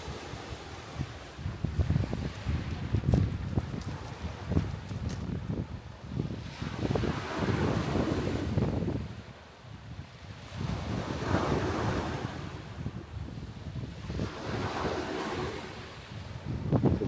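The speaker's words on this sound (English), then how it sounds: "So this is Steve Fonyo Beach." Ocean waves and wind at Steve Fonyo Beach along the Dallas Road waterfront, with surf rolling in and swelling and easing in long surges while heavy gusts buffet the microphone, loud and unbroken by speech.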